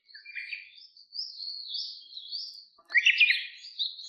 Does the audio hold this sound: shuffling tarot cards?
no